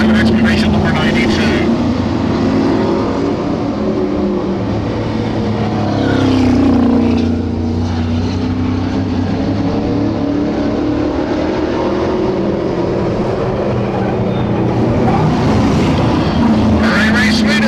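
Race cars roar down the back straight at a 2001 oval race, a loud sustained engine drone that swells and fades as the pack passes, with commentary talking over it.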